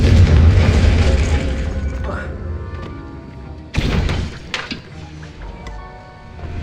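In Hogwarts Legacy, the Confringo explosive spell goes off as two deep booming blasts a few seconds apart, each with a rumbling tail, while a voice speaks over the game sounds.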